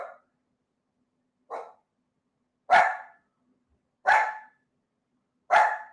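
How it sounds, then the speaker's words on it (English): Dogs bark five times, evenly spaced about a second and a half apart, each bark short, sharp and close with silence between; the first two are softer and the last three louder. "That's my dogs just kind of barking around."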